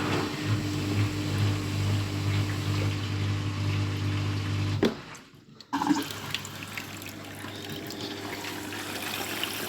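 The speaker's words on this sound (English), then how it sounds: "Okay, water's getting in." Water rushes steadily into a scrapped washing machine as it fills, a constant hiss and trickle that drops out briefly mid-way, then returns as splashing inflow.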